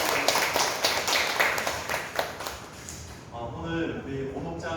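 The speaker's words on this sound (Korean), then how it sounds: "우리 다시 한번 우리 하나님께 감사의 박수 올려드리겠습니다." A church congregation claps together during a Sunday worship service. The brisk, dense clapping lasts about three seconds and then fades out, and a voice starts talking over the end.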